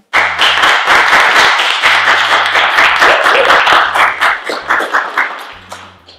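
Enthusiastic audience applause, dense clapping from many hands that sustains and then tapers into a few scattered claps near the end.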